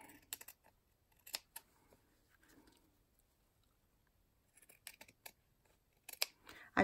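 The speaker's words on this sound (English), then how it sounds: "I'm using my regular scissors on that" Regular paper scissors cutting fabric along a straight edge, a series of crisp snips in short clusters with a quiet pause midway, close and fairly faint.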